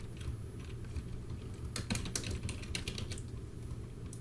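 Keys tap on a computer keyboard in short scattered clusters, quiet and near, over a steady low background hum with no voices.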